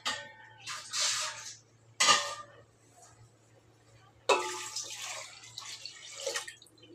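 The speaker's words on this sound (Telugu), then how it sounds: "ఇప్పుడైతే మెత్తగా వేసిన నీళ్ళు పోసేస్తా తగినవి" Water splashes into a cooking pot of tomatoes and tamarind for a home-cooked rasam, arriving in three separate pours of rushing splashes with a faint steady hum between them.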